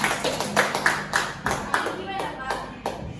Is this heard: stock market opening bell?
no